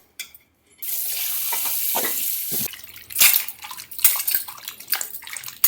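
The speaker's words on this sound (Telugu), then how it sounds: "మనం టమోటాలను బాగా కడుక్కున్నాం కదా" Tomatoes are washed under running water, a steady hissing stream that stops and restarts with splashy, irregular bursts as the fruit is handled, close and fairly loud with no talk.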